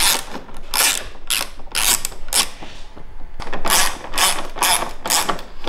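A ratchet tightens screws on a BMW M2 front lip, a series of sharp clicking bursts in quick, uneven runs with a short pause midway, close and alone.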